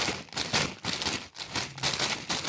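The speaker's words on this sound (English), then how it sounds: "I keep hearing something that sounds like this fucking Cheetos." Crinkling of a plastic snack bag like a Cheetos bag, close and fairly loud, bursts of crackly rustling in irregular clusters with brief pauses, no voices.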